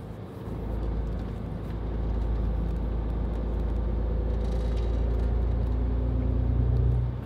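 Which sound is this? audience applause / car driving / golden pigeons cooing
car driving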